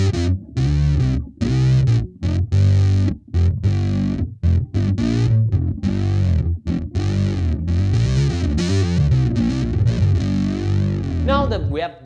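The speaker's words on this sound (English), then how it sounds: "And now let's engage the octave so we can get maximum fatness." Electric bass played with octave and chorus effects engaged for a thick synth-bass tone: a run of punchy, fuzzy notes in a steady rhythm, loud and close, with short gaps between phrases.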